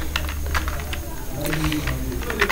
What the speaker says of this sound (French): ne faites pas attention avec mon clavier anglais